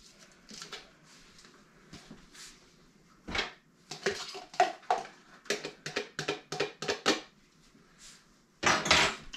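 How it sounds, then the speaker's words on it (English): Chopped onions go into a cooking pot in a home kitchen, giving a run of close clattering, scraping and rattling knocks in quick irregular bursts, with a final louder burst at the end. "Oh, and we're going to add the onions in now."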